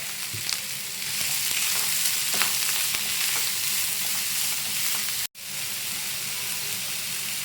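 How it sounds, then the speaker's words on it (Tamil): Onions sautéing with a little salt in a pan for prawn thokku: a loud, continuous frying sizzle with faint stirring, briefly cut off near the end, then resuming. "வெங்காயம் நல்லா வதங்கி வரணுங்க"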